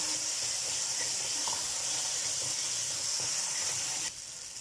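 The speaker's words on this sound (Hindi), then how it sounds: "तो अब यहाँ पे इसे अच्छे तरीके से भून देंगे इस पेस्ट को।" Ground spice paste for aloo gosht is fried in a pot, giving a loud, steady, broadband sizzling hiss close up that drops abruptly to a quieter level near the end, with no speech.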